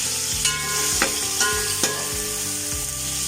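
Onions frying in oil for chicken pulao, a loud continuous sizzle with repeated clanks and scrapes of a spoon against the pot, close up and with no talking.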